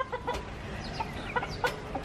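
Chickens cluck in short, scattered bursts from hens sheltering under a garden bush near their coop, with repeated mid-range calls over a steady outdoor background and no talk.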